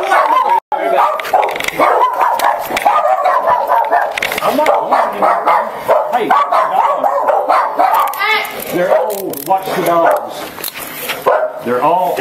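Several dogs barking repeatedly during a police traffic stop, loud, close yaps and whimpers mixed with overlapping voices of people talking.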